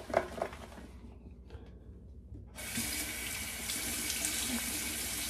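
Water runs from a tap into a sink while lather is worked up for a safety razor shave, a steady close hiss that swells louder partway through after a quieter, lighter start.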